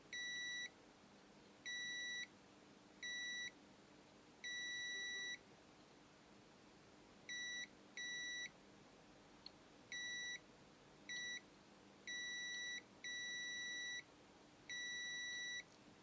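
A multimeter on continuity test across a phone's capacitor gives a series of sharp, high electronic beeps, some short and some held longer, with a faint hum underneath and no talking.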